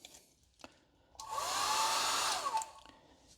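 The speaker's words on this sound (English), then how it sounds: "I get an old hair dryer" An old hair dryer forces air into the top of a Jaguar XK8 AJ27 4.0L V8 during an oil service, switching on with a rising whine and steady rushing blow for about a second, then cutting off, amid faint clicks.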